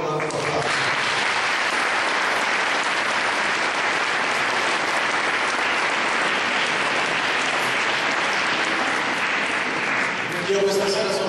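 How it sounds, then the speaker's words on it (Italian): Sustained, loud applause from a large audience at an awards evening, dense clapping holding steady for about ten seconds before a voice briefly returns at the end. "io vi chiederei di far loro un altro applauso."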